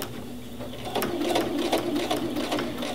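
A sewing machine tacks down a fabric loop on a pot holder finished with bias tape, its needle chattering in quick, even bursts that build after a quiet start, close and fairly loud, with no talking.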